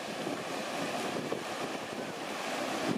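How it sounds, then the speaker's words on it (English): Rough ocean surf rolls in a steady broadband roar on a shoreline, with wind buffeting the microphone throughout and no voices. "Waves are pretty rough."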